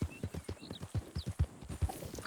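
Horse hooves clop in a quick, even rhythm in Red Dead Redemption 2, a string of distinct hoofbeats at moderate volume over quiet game ambience.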